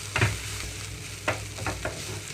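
Grated fresh coconut and chili powder stirred into a tindora and tomato curry in a pan, with a soft steady sizzle and a few scraping stirs of a spoon, close and alone.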